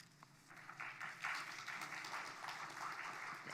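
Audience applause at the 3rd Indian Ocean Conference, a faint, distant wash of many hands clapping steadily throughout.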